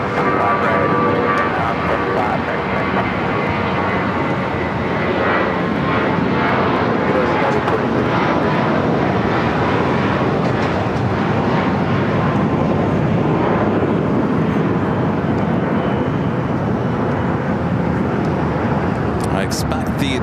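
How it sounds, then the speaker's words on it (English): A United Airlines Airbus takes off from the south side runway at LAX, its jet engines giving a steady, loud roar that holds throughout, with a voice talking over it. "United Airbus taking off here on the south side."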